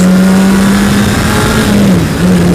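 A 2007 Honda CBR 600RR motorcycle engine runs loud and close on a cold ride, holding a steady drone, then dipping briefly as the revs shift before rising again as it pulls away.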